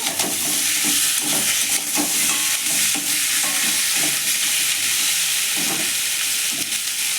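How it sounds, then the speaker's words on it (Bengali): Ground fried fish head frying in a pan, a loud, dense sizzle close by with repeated scraping stirs of the spatula through it. "দিয়ে আবার একটু ভালো করে ভেজে নেব"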